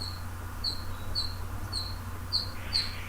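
Small birds chirp outdoors in short, evenly spaced high tweets, faint and distant against a quiet background hum.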